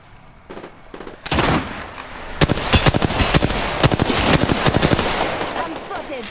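Gunfire in the battle-royale game Apex Legends: a short early burst, then sustained rapid automatic shots crackling loudly and densely for several seconds, with game effects in between.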